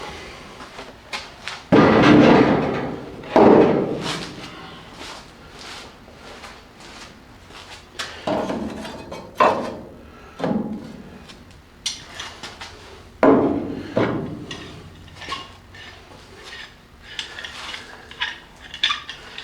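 Metal clanks and knocks as a metal panel is clamped down with C-clamps in four spots on a bead-forming setup, a string of loud, close, irregular bangs and rattles with quieter gaps between them.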